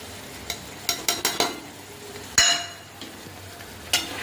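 Marinated chicken being cooked down in a pan, soft sizzling under a series of sharp spoon scrapes and stirring knocks against the metal, fairly quiet with no talk.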